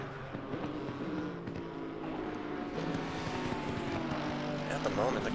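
Mercedes GT4 race cars crossing the finish line at Brands Hatch on a wet track, engines droning steadily with a continuous roar, under commentary.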